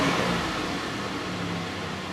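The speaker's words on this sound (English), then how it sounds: "Just got the RPMs up a little bit, just warming that converter up" A Buick LeSabre engine held at slightly raised RPM to warm a newly replaced catalytic converter gives a steady, even mechanical hum and hiss at moderate level, without speech.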